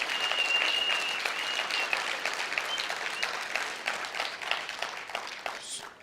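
Applause from a crowd at a labour-relations conference, a dense, steady patter of many hands clapping throughout that swells slightly early on and thins a little toward the end.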